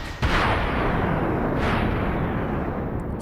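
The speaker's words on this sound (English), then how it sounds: "The bomb went off anyway" The reset bomb in Kid Icarus Uprising detonates in a single loud explosive blast, followed by a sustained roaring rumble that continues to the end.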